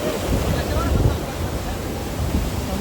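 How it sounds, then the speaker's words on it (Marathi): Water rushing continuously at a private waterfall in Banda, a dense, even roar that stays loud and close with no letup. "हा बघू शकता धबधबा आपण."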